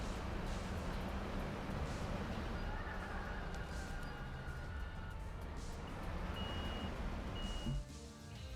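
Truck reversing beeps in Construction Simulator 3, a few short high-pitched beeps late in the clip over steady engine rumble and clatter from the construction site.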